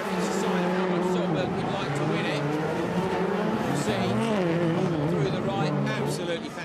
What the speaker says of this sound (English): Absolutely fantastic sound from these cars up and over the jump